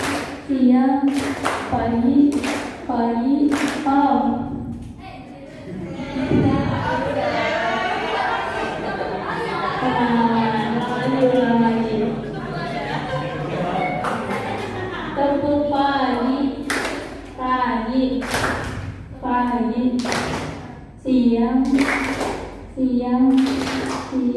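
A group plays the Indonesian clapping game tepuk pagi, siang, malam, clapping crisp rhythmic bursts of several beats that alternate with stretches of chanting and chatter, close and steady throughout.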